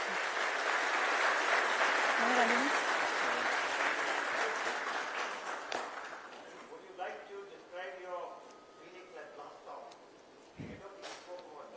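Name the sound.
audience applause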